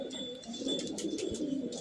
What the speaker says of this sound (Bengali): এটা একটা সাপচিলা কবুতর